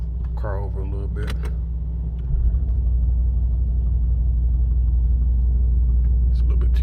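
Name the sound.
Mercedes-Benz car being moved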